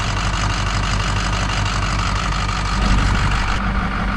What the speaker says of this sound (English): I think I'm going to rev it up a little bit too while it's disconnected.